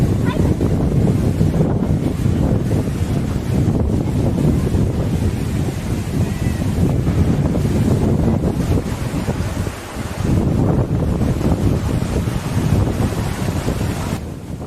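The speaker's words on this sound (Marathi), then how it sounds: "हा खळखळणारा झरा आपल्याला दिसतो" Loud, continuous rush of a mountain stream near Merwewadi waterfall, Karad, fills the clip, steady and close, with buffeting wind noise over the microphone.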